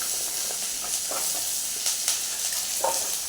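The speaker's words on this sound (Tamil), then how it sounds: "அடுத்தது பீட்ரூட் அள்ளி போட்டுக்கிறேன்" Beetroot tipped into a pan of frying onions and green chillies, with a steady soft sizzle and a few scraping stirs, no talking.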